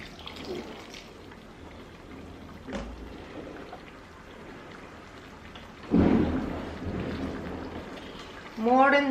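Water is poured into a pan of pork frying without oil with tomato, and it gives a sudden loud sizzling hiss that swells and then settles, under faint background noise.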